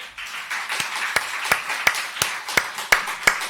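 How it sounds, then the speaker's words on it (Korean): A church congregation claps during a Korean sermon, a soft bed of scattered applause punctuated by several sharp, distinct hand claps in a loose rhythm, moderately close, with no one speaking. "박수 한번 올릴까요?"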